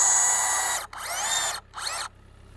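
Power drill driving screws into log-cabin wall logs, heard as three close, loud whirring bursts with brief pauses between, the motor pitch sweeping as each screw seats.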